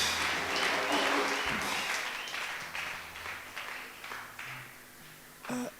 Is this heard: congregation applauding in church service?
yes